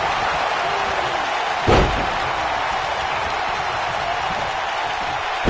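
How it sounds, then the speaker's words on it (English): A wrestler's elbow drop slams onto the ring with one loud, sharp thud partway through, over the steady roar of a big arena crowd at a wrestling event. "Debilitating elbow drop."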